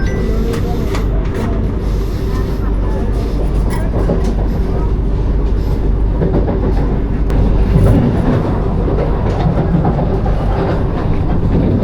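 Palaruvi Express running on rails near Tripunithura station, a steady loud rumble of wheels and carriages rolling by at close range with faint clatter throughout and no pause.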